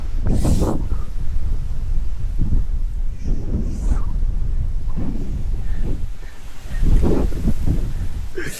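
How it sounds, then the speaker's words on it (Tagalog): Strong wind roars into the microphone in heavy, continuous gusts, rumbling low and buffeting throughout. "Gago, lakas ng hangin. Putang ina, parang hanginin ako, pre."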